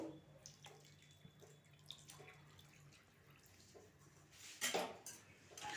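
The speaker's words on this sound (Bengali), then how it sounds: "এর মধ্যে একটু জল অ্যাড করে দেব।" Water is poured into a pot of boiled mung dal in a home kitchen, with light clinks of utensils against the pot and a louder splashing burst near the end.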